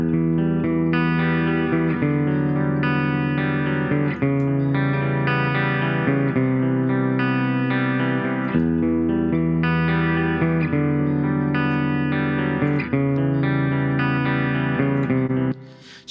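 A distorted electric guitar track, widened by the Brainworx bx_Stereomaker plugin in Reaper, plays sustained chords continuously and loudly before cutting off abruptly at the end.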